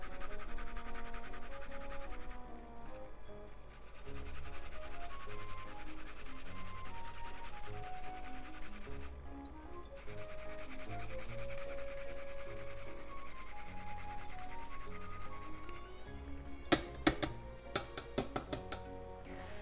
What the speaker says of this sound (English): grate the ginger in. I'm going to grate it with the skin on